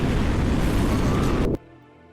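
A big detonation in an animated sniper warfare battle scene, a loud sustained roar of blast and rumble for about a second and a half that then cuts off abruptly to near silence.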